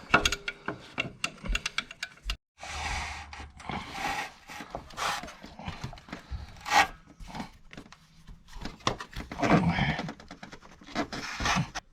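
Ratchet driving alternator bolts back in on a 2005 Saturn Ion, irregular close clicks and scraping bursts with brief pauses, fairly loud and busy throughout.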